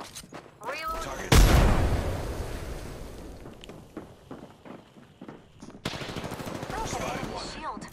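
Video game shootout gunfire, a loud burst of shots followed by scattered reports, footsteps and clanks, with voices talking over the action.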